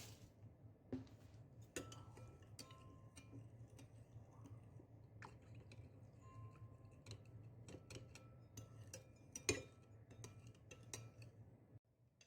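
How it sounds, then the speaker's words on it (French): A spoon stirs a tablespoon of cocoa powder into a glass of warm milk, making quiet, repeated clinks and taps against the glass over a soft background hum, close but faint. "Puis je mélange bien."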